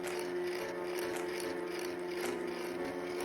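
A filament spool winder machine runs steadily, giving a close, continuous mechanical ratcheting whir of gears and a motor hum with no pauses or talking.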